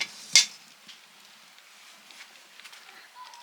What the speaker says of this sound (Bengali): কড়াই বসিয়ে দিচ্ছি